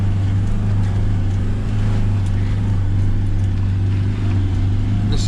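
A car engine pulling in second gear on a rough track during a wild camp in Wales, a loud, steady low rumble with constant drive noise and no pauses.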